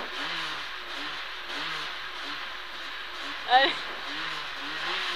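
Rally car engine idling and revving at the start of a special stage on the Rallye Régional de l'ASAB, a steady close in-car drone with a short sharp burst midway, while the crew talk over it.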